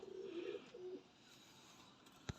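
A pigeon, one of several fancy show pigeons kept by a breeder, gives a short low coo near the start, faint and close, followed by quiet background and a sharp click at the end.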